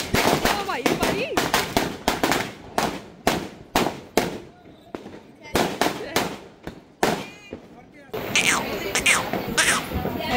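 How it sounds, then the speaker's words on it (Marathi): Diwali firecrackers burst during Laxmi Poojan night as a rapid run of sharp, loud bangs in irregular bursts, with a brief pause near the end. People talk and call out between and over the blasts. "फटाके फोडतात"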